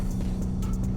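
BMW performance car at a speed week event, a loud close engine drone with deep low rumble and a steady tone, heard alone for a brief moment.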